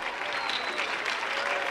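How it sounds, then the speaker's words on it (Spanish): An audience at a concert applauds the band, a steady wash of clapping and crowd noise. "Un aplauso a nuestra banda."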